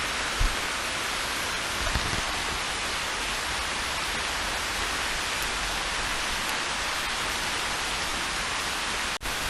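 Heavy torrential rain pours down in a dense, steady roar that fills the whole clip, close and unbroken, with a single sharp knock near the end.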